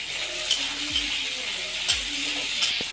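Capsicum fries in a hot pan with a steady close sizzle, while a spoon stirs it in a few scraping passes and occasional light clinks against the metal.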